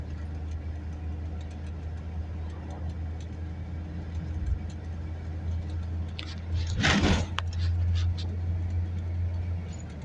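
Car engine droning steadily at a low pitch while driving a rural highway past farmhouses, with a brief louder whoosh of a passing vehicle midway and the engine note rising slightly after a gear change.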